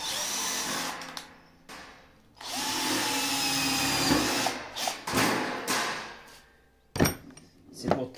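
A power drill boring a series of holes, in bursts of high whirring with short pauses between them and a knock near the end, heard close up with no talk.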